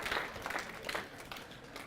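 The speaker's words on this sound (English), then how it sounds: "give yourselves a big round of applause" Audience applause for people who put the chairs back together, a steady mass of clapping at moderate volume that runs for about two seconds with no voices over it.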